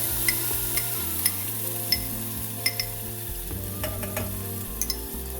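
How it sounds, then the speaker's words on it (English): Yogurt sauce is stirred into golden ginger paste sizzling in a pan for kadhi, a close steady fry hiss with periodic spoon clinks against the pan and a low background hum. "Give it a nice stir"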